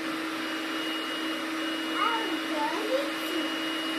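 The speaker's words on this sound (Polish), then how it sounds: "odkurza teraz" A child runs a vacuum cleaner indoors, a steady, loud, unbroken whine filling the whole stretch, with faint voice-like sounds rising briefly over the drone near the end.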